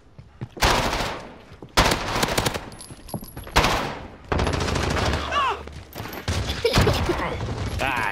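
Call of Duty Zombies gunfire during a tournament match comes in several separate loud automatic bursts, each lasting about a second, followed by longer sustained firing with mechanical clicks and game effects.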